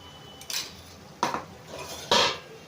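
A utensil scrapes and clanks against a pot while spinach curry with ginger paste is stirred: three distinct, fairly loud strokes with quiet pauses between them.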